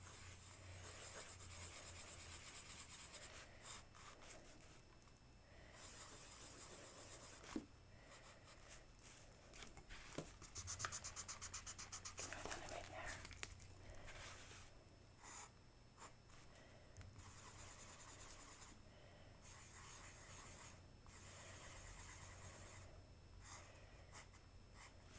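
Pen drawing on paper during a viola music theory lesson, a soft continuous scratchy rubbing with short strokes and pauses, close and quiet against a low background hum.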